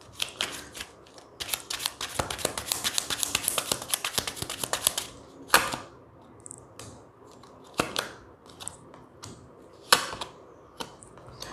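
Tarot cards are shuffled and drawn by hand, a dense run of crisp riffling snaps for several seconds, then a few separate slaps and flicks as single cards are pulled and laid down, close and moderately loud with no talk.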